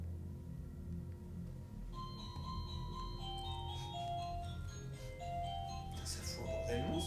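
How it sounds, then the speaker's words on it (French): A house doorbell in a château plays a tinkling chime melody, its repeated musical notes ringing out while people talk nearby. "C'est une sonnette."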